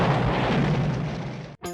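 A film explosion closes an Orson Welles long take, a loud, sustained, deep booming roar that rolls on and then cuts off abruptly into a different sound.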